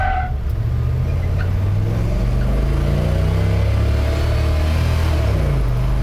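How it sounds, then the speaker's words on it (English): A gasser drag car launches and accelerates hard down the drag strip, its engine roaring loud and close with a steadily climbing pitch that holds for several seconds, with no voices. "just mash on the gas as soon as I get up there"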